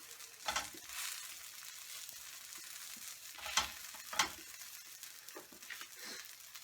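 A besan cheela, a gram-flour masala pancake, sizzles softly in a pan with a steady faint frying hiss, broken by a few louder crackles and scraping taps as it is patted down.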